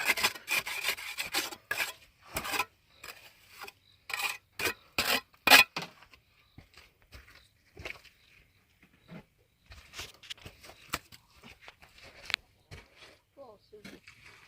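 Repeated rough rasping strokes of a tool scraping a surface during a duck pond build, a fast burst of close scrapes followed by sparser, softer scraping with a few pauses.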